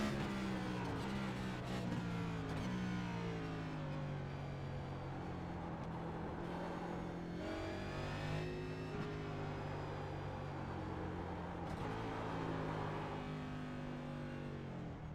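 A race car engine in iRacing revs and drops through gears, its steady loud drone stepping down in pitch on downshifts and climbing again, heard close with no talking.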